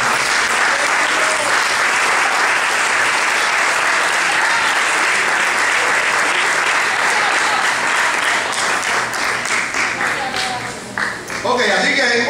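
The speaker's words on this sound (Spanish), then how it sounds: "Me doy un aplauso a Cristo en esta mañana." Loud, sustained applause from a church congregation during a Spanish-language sermon, dense clapping filling nearly the whole stretch before thinning out near the end.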